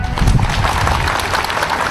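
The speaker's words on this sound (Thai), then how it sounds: "ขอปรบมือให้กับท่านครับ" Applause for the party secretary-general at a hospital building foundation-stone ceremony: a steady dense wash of clapping from a crowd, loud and continuous throughout.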